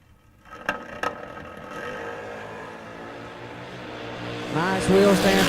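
Drag racing cars launching from the line at a big-money eliminator race, engines building to a loud sustained roar with a few sharp pops at the start, under an announcer's talk.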